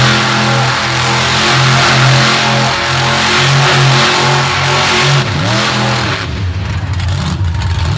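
Drag racing vehicle launching down the race lane at a dragway, a loud close engine roar with sustained tonal bands that sweep and shift as the car accelerates away, then fading into rougher noise.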